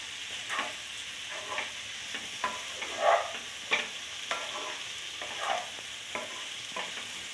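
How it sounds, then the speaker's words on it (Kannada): Okra being stirred in a frying pan for a Karnataka-style palya: a soft sizzle underneath, with regular scraping strokes of a spatula about every half second, close and clear, with no talk. "ಬೆಂಡೆಕಾಯಿ ಹಾಕಿ ಚೆನ್ನಾಗಿ ತಿರುಗಿಸ್ಕೊಳ್ಬೇಕು."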